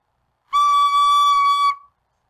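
A recorder sounds one steady, clear high D, fingered with only the second finger, held for about a second and a quarter before stopping cleanly, alone against silence.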